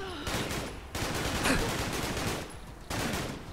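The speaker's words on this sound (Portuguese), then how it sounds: "A sério que estás-me a disparar de cima?" Bursts of enemy gunfire fill a fight in Fallout London, a Fallout 4 mod, coming in fusillades with brief pauses between volleys.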